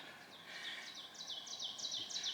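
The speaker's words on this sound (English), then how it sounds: "Do you hear my beeper bird?" A bird repeats quick, high descending chirps in a steady series over a faint background hiss, fairly close and clear.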